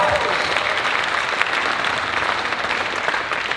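A large audience at a roast event for the Jersey City mayor breaks into steady, full applause that fills the room for several seconds without a break.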